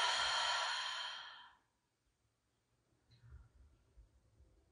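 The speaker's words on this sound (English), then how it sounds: "Let's take one last breath together through our nose, inhale. And exhale." A slow nasal exhale at the end of a hot yoga practice, a soft breathy rush that fades over about a second and a half, followed by near silence and a few faint rustles.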